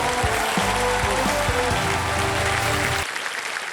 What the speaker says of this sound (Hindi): जोरदार तालियां इनके लिए अगेन।